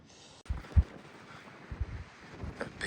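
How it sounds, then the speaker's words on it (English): Wind gusts through the top of a tree at night, a soft rushing broken by a few low buffeting thumps against the microphone, steady and fairly quiet throughout. "It's so windy up here."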